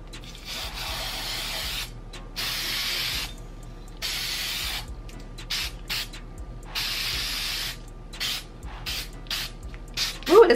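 Clear acrylic sealer sprayed from an aerosol can onto glitter, a run of steady hissing bursts of about a second each, separated by short pauses, close and fairly loud with no talking.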